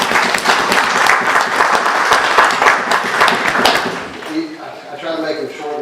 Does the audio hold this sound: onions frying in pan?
no